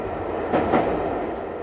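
A train on the Kyle of Lochalsh railway in Scotland rumbles steadily along the tracks with a continuous broadband roar, swelling briefly midway, no voices.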